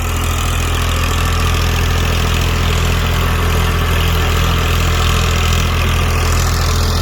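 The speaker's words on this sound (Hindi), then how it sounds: "ट्रैक्टर बिल्कुल स्मूथ चल रहा है यहाँ पे।" A tractor engine with a rotavator attached runs steadily for the whole stretch, a loud, even low rumble with a constant idle-like drone and no talk over it.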